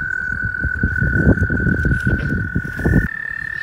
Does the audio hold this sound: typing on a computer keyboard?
no